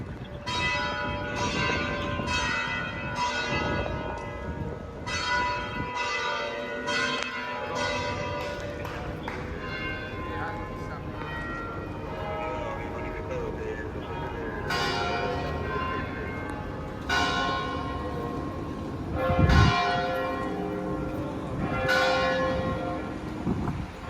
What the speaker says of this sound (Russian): когда колокола звенят